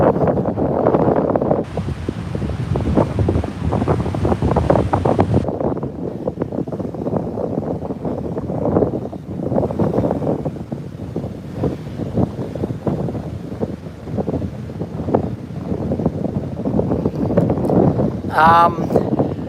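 Ocean surf and gusting wind at Hastings Point during a low-pressure system, a constant loud roar of breaking waves with heavy wind buffeting the microphone, and people talking over it.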